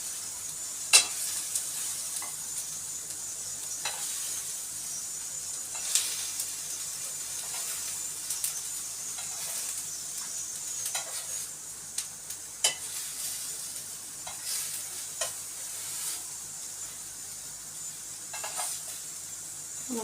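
Chicken nuggets frying in a pan give off a steady, close sizzling hiss, dotted with small crackles and pops, with no talking.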